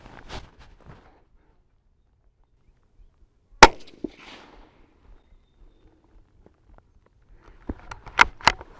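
A .17 Hornady Mach 2 rifle fired at a ballistic gel block outdoors: one sharp, loud crack standing alone amid quiet, with faint handling noises before and several clicks and clatters near the end.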